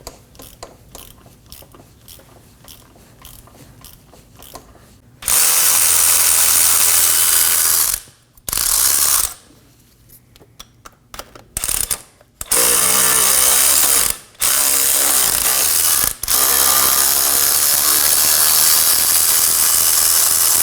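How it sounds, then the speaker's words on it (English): A ratchet loosens the 8 mm front driveshaft bolts on a 2013–2022 Chevrolet Trax. Quieter mechanical handling gives way to several loud, close bursts of rapid ratcheting, separated by short pauses between the bolts. "Now we're going to move on to the front portion of the drive shaft and remove these 6 8mm bolts."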